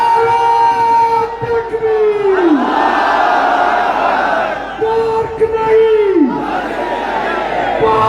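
A large crowd at a religious gathering at Madina Masjid on Tariq Road roars the Takbir slogan in loud, sustained bellowing waves, two long surging shouts that swell and fall over about eight seconds.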